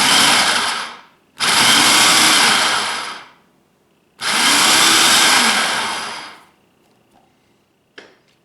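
A blender pulsing blue cheese dressing gives three loud whirring bursts of a couple of seconds each, separated by short pauses, ending with a faint clack.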